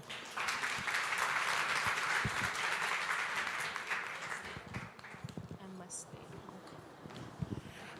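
An audience at an Old Mutual Indaba event applauds in a dense, loud burst of clapping that tapers off after a few seconds into scattered claps and murmuring voices.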